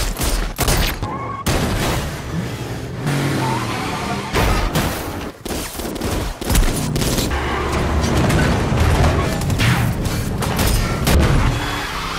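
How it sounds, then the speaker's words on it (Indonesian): Two gangster cars collide during an action-film chase, heard as a loud run of booms, bangs and gunfire-like crashes with engine noise, dense and close throughout. "Kedua mobil gangster bertabrakan."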